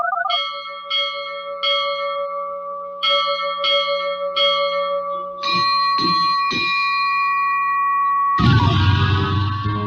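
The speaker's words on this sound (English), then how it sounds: "Listen to AM 1230 for the ship's bell." A ship's bell rings in a rhythmic series of bright metallic strikes, several pairs in succession, ending in a burst of broadband noise.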